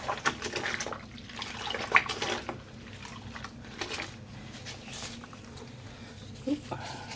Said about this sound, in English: And I'm just dunking them